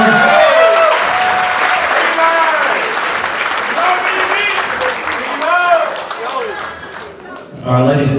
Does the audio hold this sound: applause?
yes